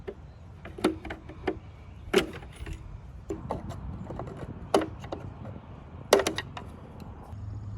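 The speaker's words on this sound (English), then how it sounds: "you can pry these guys off using flathead screwdriver" Flathead screwdriver prying plastic clips and grille parts off an OBS Ford truck, giving a series of sharp clicks, snaps and creaks at irregular intervals over low background noise, close up with no talking.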